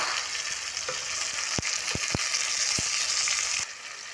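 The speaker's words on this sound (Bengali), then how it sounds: "টমাটো ঢেলে দিলাম" Chopped tomatoes hit a pan of frying ginger and garlic, a broad steady sizzle holding throughout with a few sharp spoon taps before the hiss drops slightly at the end.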